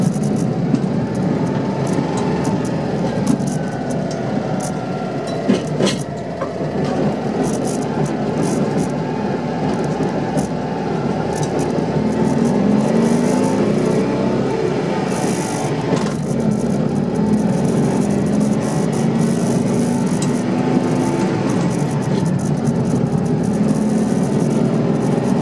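A 1963 Citroen 2CV Truckette, the small van version, drives along with a steady engine drone, road noise and a constant rattle, plus a few sharp knocks from the body.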